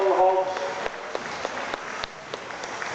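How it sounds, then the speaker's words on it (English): Crowd applause at the Highland Show's Scottish National sheep shearing contest after shearer Robbie Hislop finishes a big, strong hog, steady scattered clapping with a few sharp louder claps, under a commentator's voice at the start. "Give him a round of applause, it's hard work up there"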